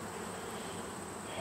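Honeybees buzz around the hive during a late-season apiary check, a steady, faint, even hum with no talking.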